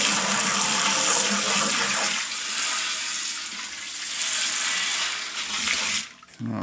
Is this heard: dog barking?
no